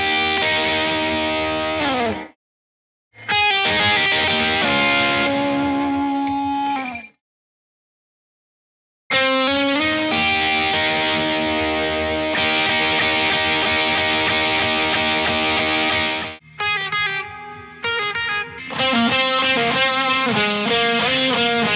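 Distorted electric guitar lead lines played through a Torino Audio boost pedal with the collider on into a Plexi-style amp, loud and sustained in phrases separated by two short silences.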